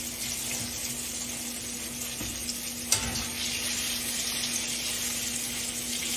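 Eggplant slices fry in a pan with a steady loud sizzle that runs throughout, broken by one brief clatter near the middle.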